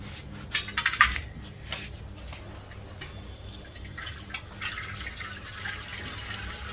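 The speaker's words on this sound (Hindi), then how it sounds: "इस पानी को हम डालते हैं नीचे," Water is poured out of a metal cooking pot while making a herbal antiseptic lotion, with a brief clatter of the pot near the start followed by a soft, steady trickling splash, fairly quiet and close.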